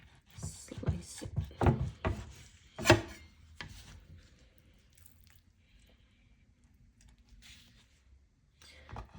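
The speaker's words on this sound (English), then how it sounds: "I just take the chicken breast, lay it flat, use my hand to press it down on the board, and then I slice" A knife slicing a chicken breast thin on a board, several sharp close chopping and squishy cuts clustered early, then quieter faint handling, with a voice talking over parts of it.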